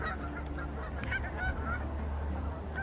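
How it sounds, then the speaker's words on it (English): A flock of Canada geese and snow geese honk continuously in the distance, overlapping calls over a low steady wind rumble at a wetland during a blizzard. "There's a whole bunch of snow geese and greater white-fronted geese"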